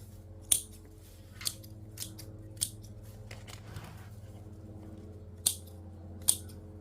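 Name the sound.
scissors pruning leaves of chrysanthemum bonsai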